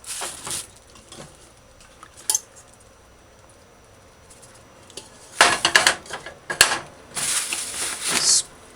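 A pressure cooker pot handled on a stove, with scattered metallic clanks and scrapes, quiet at first and then louder clattering bursts toward the end.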